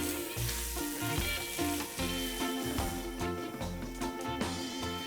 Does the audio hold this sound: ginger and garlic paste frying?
yes